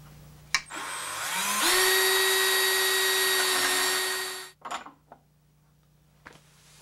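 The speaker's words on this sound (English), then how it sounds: "And I'll do that with a 3/8 inch drill bit." A power drill with a 3/8 inch bit bores holes in wood for an Arts and Crafts panel bed, winding up, whining steadily for about three seconds, then stopping, followed by a few clattering knocks, close and loud.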